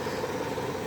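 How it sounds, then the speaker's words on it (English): A 2005 Toyota Tundra pickup engine with 234,000 miles and a developing knock idles steadily nearby, a continuous low mechanical rumble with no clear separate knock standing out in this short stretch. "I got a little bit of an engine knock"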